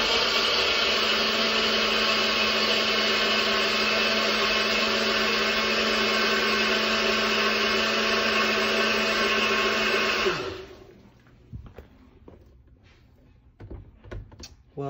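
NutriBullet blender whirs loudly and steadily while blending a smoothie for about ten seconds, then cuts off abruptly, followed by quieter clatter and knocks of the cap and cup being handled.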